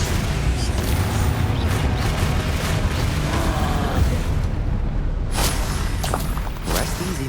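Magical spell blasts from Bombarda and Confringo in the Hogwarts Legacy wizarding game, a continuous dense roar of booming explosions and crackling bursts with sharper impacts near the end and no talking.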